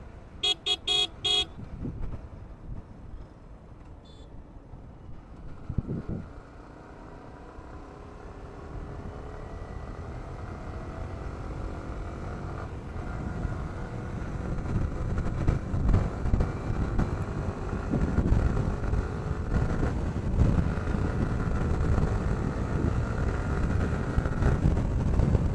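A Yamaha R15 V3 BS6 motorcycle on the move, its exhaust droning and building in pitch as it accelerates, buried under heavy wind rush, with a few short horn-like toots at the very start.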